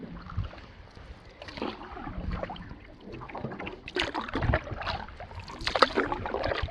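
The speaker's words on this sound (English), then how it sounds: "There's a canoe coming." Canoe gliding past on a quiet lake in the Boundary Waters wilderness, soft paddle splashes and water dribbles at irregular intervals, fairly close and growing slightly busier toward the end.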